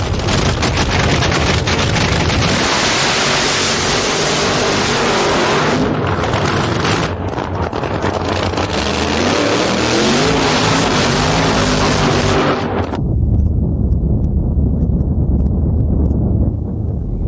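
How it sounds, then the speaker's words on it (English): A nitro funny car drag racer at a night drag race roars through a loud, sustained burnout, a dense crackling engine blast that holds for about thirteen seconds before cutting to a lower rumble. "He's getting ready to make his burnout."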